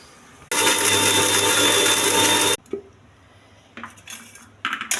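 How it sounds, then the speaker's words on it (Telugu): A mixer grinder whirs loudly for about two seconds, grinding coconut, tamarind, peanuts, salt and a green chilli for chutney, then stops, followed by faint clinks and handling noises. "మిక్సీ వేసుకోవాలి."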